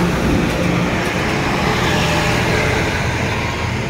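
Road traffic backed up in a jam after an accident, a steady wash of engine rumble and roadway noise from nearby cars, buses and trucks that holds a constant level throughout.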